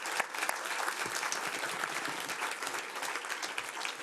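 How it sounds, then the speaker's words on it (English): An audience at a city hall grand opening applauds steadily, a dense wash of many hands clapping at moderate volume throughout, with no talking. "Please join me in applauding their efforts."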